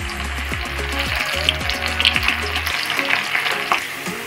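Corn kernels fry in hot oil in a kadai over a medium flame, with a loud, close, continuous sizzle and crackle, some stirring clatter, and occasional spits and pops, no speech.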